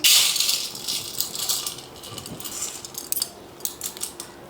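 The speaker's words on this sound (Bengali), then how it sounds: "চালটাকে এখন আমি একটা পাত্রে নিয়ে নিচ্ছি" Washed, dried basmati rice is poured into a pot, starting with a loud rattling rush and then trailing off into scattered light grain clatters and ticks.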